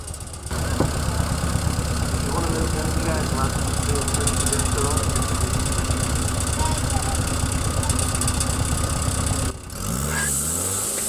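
Sawmill machinery at an agricultural show drones steadily with a loud engine hum and clanking as hydraulic pushers position a log, running continuously before cutting out abruptly near the end.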